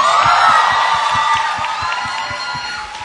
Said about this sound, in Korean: 다시 한번 그 박수 부탁드리겠습니다